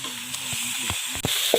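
Onions sautéing in a pan with ginger garlic paste for a chicken and tapioca gravy, a close steady sizzle broken by several sharp spatula scrapes and knocks against the pan.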